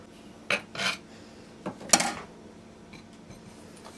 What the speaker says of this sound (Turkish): Ortadaki tabağı kaldırıyorum.